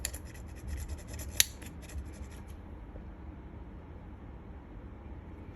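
Corroded anodized aluminum is rubbed to round off and smooth its edges, giving a close, dry scraping for a couple of seconds with one sharp click, then only faint room noise.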